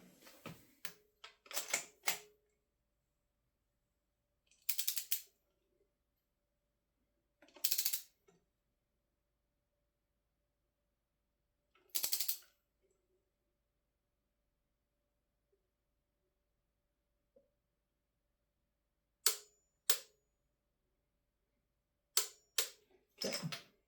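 A torque wrench clicks and ratchets while tightening spark plugs on a Lancer Evolution, heard as several short, crisp mechanical bursts spread out over a long, otherwise quiet stretch, with no talking.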